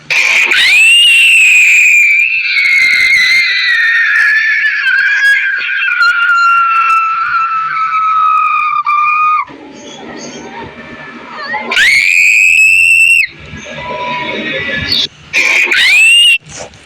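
Shrill, sustained scream-like vocal sweeps, loud and near, sliding slowly downward for several seconds, then breaking into shorter rising bursts with gaps and quieter stretches between them.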